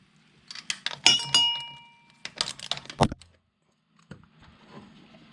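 Socket tools clinking and rattling during an oil change, as an 11/16 socket removes a K&N oil filter from a 1998 Harley-Davidson Electra Glide Classic, with several bursts of close metallic clicks and clanks separated by short pauses.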